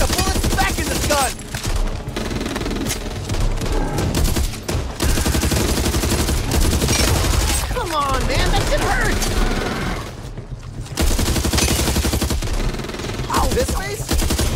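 Zombie shooter Back 4 Blood gameplay with rapid bursts of gunfire and explosive impacts, loud and dense, broken by short pauses and mixed with game music and effects.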